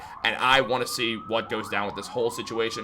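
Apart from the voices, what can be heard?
sirens outside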